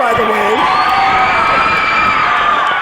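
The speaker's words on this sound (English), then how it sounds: "This crowd going nuts for Jack Ledger" A wrestling crowd roars and cheers wildly at an independent show, a dense, sustained wall of shouting and whooping voices with no break, loud and close throughout.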